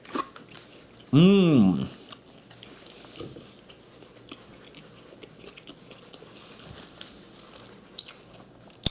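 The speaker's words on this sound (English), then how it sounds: "I'm taking another bite here." A bite into an Arby's Loaded Italian sandwich with pepperoni and salami, one short close crunch near the start followed by quieter faint chewing, with a brief murmur from the eater.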